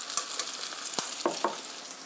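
Spaghetti with shiitake mushrooms stir-fries in a pan, a steady close sizzle broken by a few sharp scrapes and taps of the utensil.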